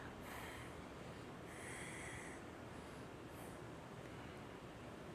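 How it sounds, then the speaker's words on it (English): Forceful breath exhales during a Kundalini yoga breathing exercise, heard as several breathy hissing bursts over a steady broadband rush, faint and somewhat distant. "Powerful exhales."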